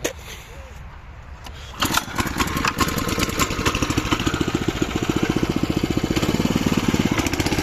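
A Honda engine on a tracked wheelbarrow is pulled over, catches after about two seconds, then runs with a steady, rapid chugging beat that grows slightly louder, close to the microphone.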